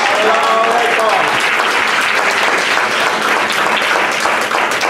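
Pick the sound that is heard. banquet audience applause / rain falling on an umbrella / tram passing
banquet audience applause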